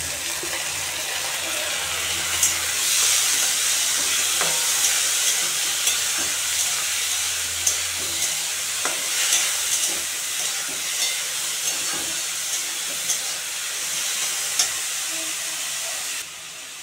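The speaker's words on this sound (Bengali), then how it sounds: "পেঁয়াজগুলো লঙ্কাগুলো ভাজা ভাজা হয়ে গেছে। এখন আমি মসুর ডালটা দিয়ে দেবো।" Red lentils tossed into a pan of fried onions and chilies give a steady, close sizzling hiss with scattered scraping stir strokes throughout, no voices over it.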